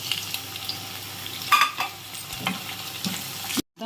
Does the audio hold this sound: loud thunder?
no